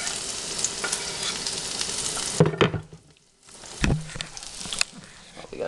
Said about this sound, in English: I'll add this in, and this garlic will cook up